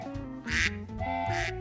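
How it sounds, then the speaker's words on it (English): Two loud, close cartoon duck quacks a second apart from animated ducks in a Peppa Pig toy scene, each a bright nasal burst over a soft background. "I love ducks. Quack, quack."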